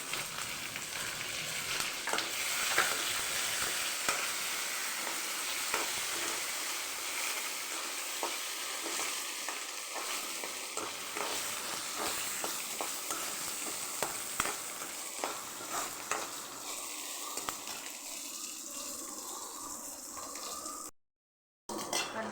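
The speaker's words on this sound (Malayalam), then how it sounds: "ഇനി നമുക്ക് ഉള്ളി ഇടാം. ഉള്ളിയും മുളക് ഇട്ടെടുക്കാം, ഇഞ്ചിയും വെളുത്തുള്ളി" Onion, chilli, ginger and garlic sizzle steadily in hot oil for chana dal coconut chutney, a continuous loud frying hiss with scattered crackles and stirring scrapes, no talk, ending in a short silent gap.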